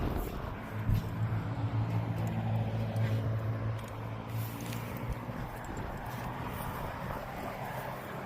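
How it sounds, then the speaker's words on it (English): Hooves of a pony clip-clopping at a small hobby farm in Port Rexton, Newfoundland, with irregular soft thuds over outdoor background noise and a low hum, moderately near. "Look at this beauty of a little horse."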